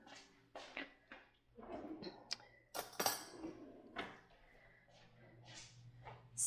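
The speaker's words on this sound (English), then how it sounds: "Let me grab a spoon." A spoon clinks and taps against a glass honey jar in a handful of close, irregular knocks and rattles, with quiet pauses between them.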